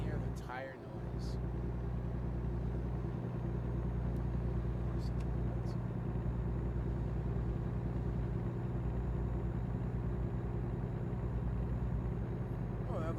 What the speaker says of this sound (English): You can even hear the tire noise.